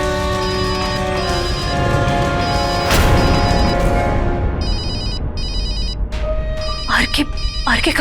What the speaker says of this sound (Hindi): आरके का फोन है।